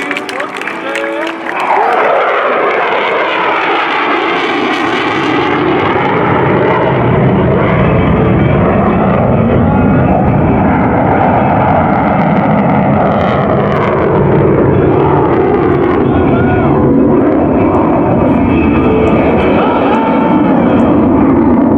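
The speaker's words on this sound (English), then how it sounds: "as the aircraft approaches from the left" A Boeing F/A-18F Super Hornet jet roars past at an airshow in a loud, continuous rush, with the pitch sweeping down as it approaches and passes. Crowd noise and an announcer's voice sit beneath the engine roar.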